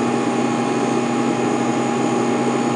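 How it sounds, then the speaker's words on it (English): An ACOPOWER LiONCooler X40A solar 12V cordless fridge running in max mode drones steadily, a constant motor hum with a few sustained whining tones, loud and close. "I do have the refrigerator now in max mode. It is slightly louder. It's more of a higher pitch tone instead of volume-wise"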